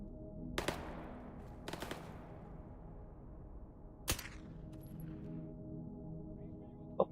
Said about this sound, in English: That's a suppressed SVD in the background.